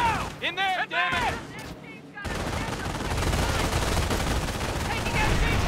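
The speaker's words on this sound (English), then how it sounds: "Taking MG fire!" Machine gun fire in the World War II strategy game Company of Heroes, a sustained roar of rapid gunfire that starts abruptly after brief shouted voices and keeps rattling loudly to the end.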